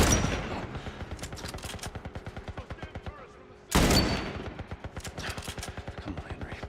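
Rapid, evenly spaced gunshots from The Last of Us Part 1 crackle steadily through the whole stretch, swelling into a louder burst of fire midway, with a companion character involved in the firefight.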